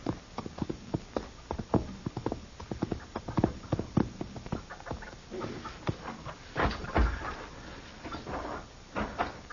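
A horse's hooves clip-clop at a steady walking pace, sharp knocks repeating close by with faint background noise and no voices.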